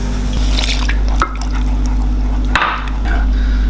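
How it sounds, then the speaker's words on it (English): Milk is poured slowly into a cooked roux while it is whisked for a Croque Monsieur sauce, giving close liquid trickling and sloshing over a steady low kitchen hum, with a couple of brief clinks. "the roux is cooked and we add the milk now slowly at a time. Keep whisking."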